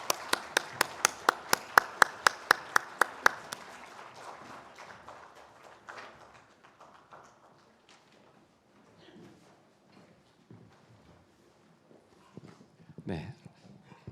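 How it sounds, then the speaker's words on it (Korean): A church congregation at a Sunday worship service claps in unison, giving about a dozen sharp, evenly spaced claps. The clapping stops and gives way to a person speaking and quieter room sounds. "하나님께 영광의 박수 함께 올려드리겠습니다"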